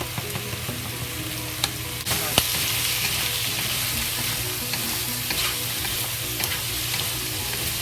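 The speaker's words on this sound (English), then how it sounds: "Bok choy we add into it. Give it fry." Bok choy fries in a pan with a pinch of black pepper, giving a steady, close sizzle and crackle. A few sharp utensil clinks and scrapes come through, and the sizzle grows fuller about two seconds in.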